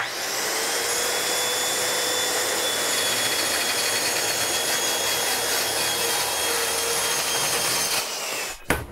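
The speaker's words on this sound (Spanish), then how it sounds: "Voy a usar mi sierra circular para cortar esto" A circular saw rips through a thin kitchen cabinet panel in one steady, loud cut of about eight seconds, with a whining tone riding over broad grinding noise that stops abruptly as the blade clears the board.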